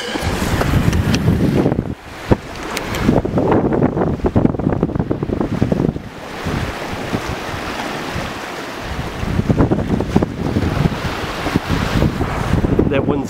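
Strong wind gusts outdoors at Bluff, Southland, New Zealand, roaring loudly and continuously into the microphone, with heavy buffeting that swells and dips throughout.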